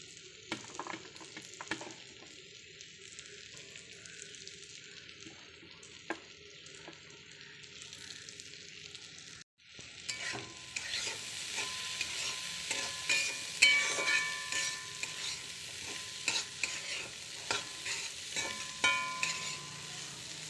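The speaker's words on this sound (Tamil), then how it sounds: "வெங்காயம் போட்டு நல்லா வணக்கி விட்டுருவோம் நல்லா ஃப்ரை ஆகட்டும்" Bitter gourd and onion fry in a pan, a quiet sizzle that jumps much louder halfway through, with spatula stirs and crackles over the hotter second half.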